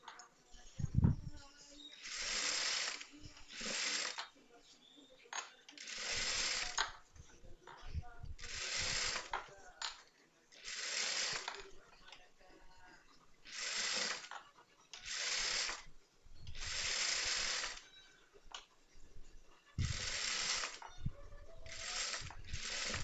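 A sewing machine stitches a blouse in repeated short runs of fast rattling whir, each a second or two long, separated by quiet pauses and small clicks as the fabric is repositioned.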